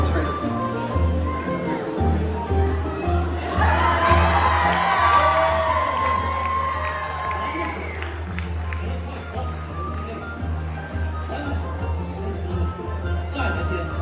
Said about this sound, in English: Everyone applaud for them?